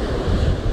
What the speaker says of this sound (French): Il y a des vagues, hein, ça bouge bien là.